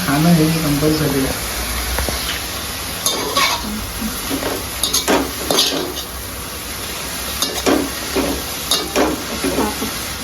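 Fenugreek leaves and vegetables stir-fried in a pan, a steady sizzle under a spoon scraping and tapping the pan in bursts, with a person talking over it at the start.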